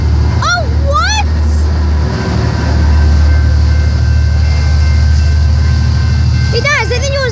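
A train rolls past close by with a loud, steady rumble of wheels and cars, a few brief high squeals and whistles rising over the roar near the start and end.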